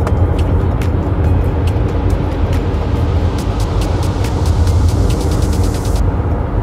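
Toyota hybrid car cruising on a motorway and braking lightly, heard from inside as a steady low road and engine rumble with tyre noise, broken by light ticking clicks, and no talking.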